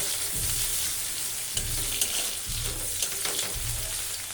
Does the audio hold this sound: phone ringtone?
no